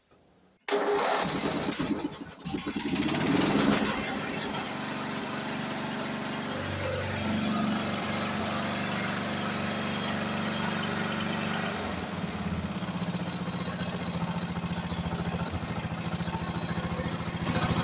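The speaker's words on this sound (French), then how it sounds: "je vais essayer de le démarrer, ce tracteur." An AYP lawn tractor engine cranks briefly, catches and starts, then settles into a steady, slightly high idle that runs loud and close without a break.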